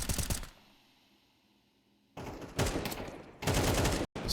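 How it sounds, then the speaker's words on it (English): Bursts of AK rifle fire in a Counter-Strike match ring out loud and close, a short volley, a pause, then two more rapid sprays of rattling shots with no speech. "Sprays through in the burst of the AK of Brendan"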